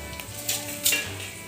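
Dried red chillies drop into hot oil already holding whole cardamom, cloves, cinnamon and peppercorns for a Bengali chicken curry. A soft steady sizzle runs under two sharp bursts of crackling, with light clinks of utensils.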